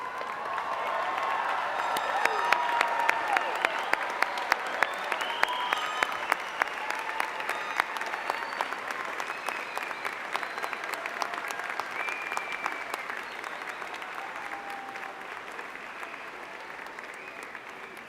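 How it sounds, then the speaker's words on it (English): A high school commencement audience gives the graduates a standing ovation, with dense, steady clapping that swells early on, scattered sharp claps and whoops threaded through, and a gradual easing over about eighteen seconds. "Could we stand and give them a round of applause for all their hard work and effort?"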